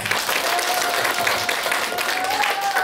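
Audience applause at the opening ceremony of a folk-song fan meeting in a small community-hall theatre, a dense, steady clapping that fills the whole clip, with a voice faintly audible beneath it.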